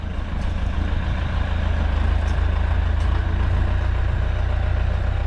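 A tractor fitted with a Trident 40HP blade drives forward, its diesel engine giving a steady, loud, low rumble close by with no talk.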